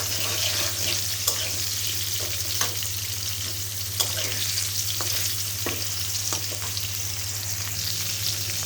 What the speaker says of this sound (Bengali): এখন হচ্ছে ফুলকপিগুলো আমি হালকা করে একটু ভেজে নিলাম।